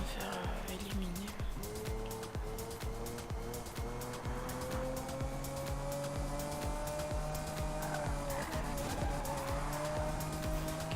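A car drifts in the Need for Speed Rivals video game, with a sustained tire squeal and a steady engine drone running loud for the whole stretch, mixed with game effects and other in-game sounds.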